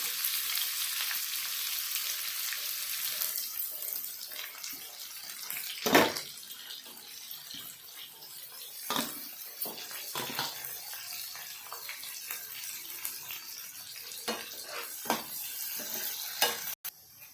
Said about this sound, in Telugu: తర్వాత ఉల్లిపాయలు వేస్తున్నానండి. తర్వాత పచ్చిమిర్చి కూడా వేస్తున్నాను.